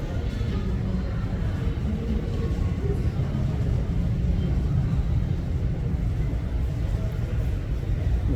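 Korean Air Boeing 777 taking off from Incheon International Airport, a steady, heavy low engine roar heard from a distance and holding constant throughout, with some faint voices in the background.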